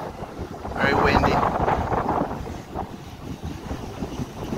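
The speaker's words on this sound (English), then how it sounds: "Very windy." Strong wind buffets the microphone at an outdoor car meet with a loud, rumbling roar that swells and eases, and faint voices can be heard beneath it.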